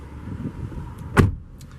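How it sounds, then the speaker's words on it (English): A single solid thump of a 2019 Toyota Tacoma TRD Off-Road door being shut lands midway over a quiet idling engine hum, followed by a faint rattle. "So we'll go ahead and close the door."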